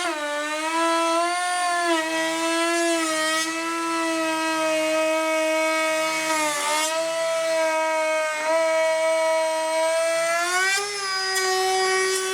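Power saw cutting full depth through a PVC deck board, a loud near tonal whine that holds steady with slight dips in pitch as the blade bogs in the material, with no talking.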